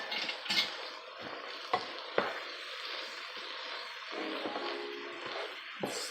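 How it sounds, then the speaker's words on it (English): A spoon stirs goulash seasoned with black pepper in a single pot, giving soft scraping with a few sharp clinks against the metal, quiet and close. "Give this all a stir real quick."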